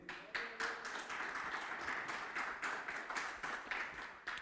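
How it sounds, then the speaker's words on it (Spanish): A church congregation applauds for Jesus Christ at a Luz del Mundo service in Genova, Italy, with rhythmic, fairly even clapping that pulses steadily and stays moderately loud throughout. "Denle un fuerte aplauso al Señor Jesucristo"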